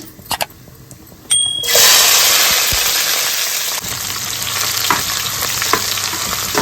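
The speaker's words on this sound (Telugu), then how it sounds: "ఉల్లిపాయండి బ్రౌన్ కలర్ వచ్చినాక మనం ఫ్రై చేసుకోవాలి" Onions hit hot oil in a pan for vegetable pulao: a few sharp clicks, then a sudden loud, continuous sizzle that carries on steadily with occasional stirring scrapes and no talking.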